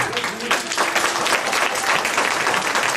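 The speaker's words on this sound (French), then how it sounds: "Vous pouvez l'applaudir également" A crowd at a New Year's wishes ceremony in Pussay, 2019, applauds a silver medallist, with dense, steady clapping that fills the whole stretch at close range and sounds loud and even throughout.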